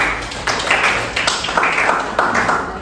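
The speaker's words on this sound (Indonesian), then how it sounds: "berikan tepuk tangan ke kelompok yang presentasi" Students in a classroom applaud a group that has just finished presenting, loud close clapping that arrives in swelling bursts and keeps going throughout.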